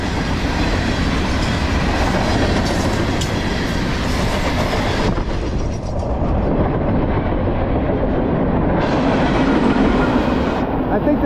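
A Norfolk Southern freight train with three locomotives rolls past on the Lehigh Line, making a loud, continuous rumble with wheel clatter close by. Brief talk can be heard under the noise.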